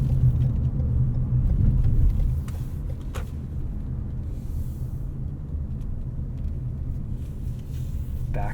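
A 2020 Lexus NX 300h hybrid car reverses slowly into a parking space, a steady low interior rumble with faint clicks and a soft thump, no voices.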